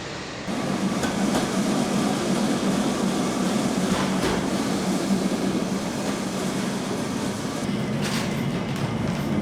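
Interior of a Lisbon tram in motion, a steady loud low rumble and rattle of the car rolling along the rails, with occasional squeals and clatter, continuous throughout with no talk.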